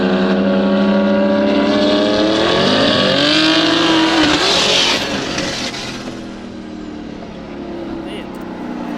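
A BMW engine revs hard at a street race meet with a loud rising whine likened to a jet, climbing in pitch and then fading away as the car passes, while people talk over it nearby.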